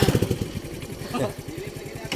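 A motorcycle rides along at close range with a steady, pulsing engine drone, while people talk over it.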